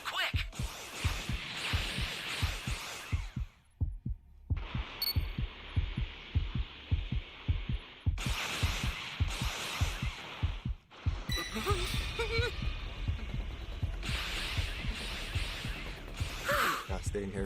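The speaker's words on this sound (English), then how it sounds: "When you hear the heartbeat going fast" Fast, rhythmic heartbeat warning in the Dragon Ball The Breakers video game, steady low thumps pulsing throughout under game music and effects.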